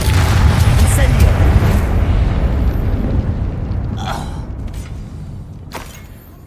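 Incendio fire spell in Hogwarts Legacy erupts as a loud, roaring burst with deep rumble, gradually fading over several seconds, with small crackles near the end.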